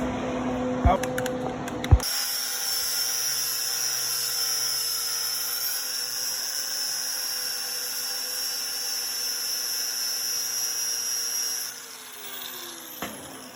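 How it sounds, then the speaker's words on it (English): An electric wire wheel strips mill scale from structural steel plate, starting after a couple of clicks and knocks with a high, steady whine and gritty scraping, close and continuous until it spins down near the end. "Let's give it a quick wire wheel and see what it does."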